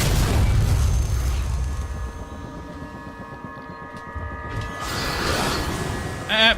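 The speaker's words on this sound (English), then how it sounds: "Flashbang!" A flashbang grenade goes off in the game Alien: Isolation as a deep boom, then a long ringing tone that slowly fades before a second rumbling swell.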